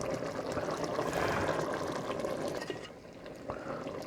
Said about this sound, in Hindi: इसमें पानी डालकर शोरबा बना लेंगे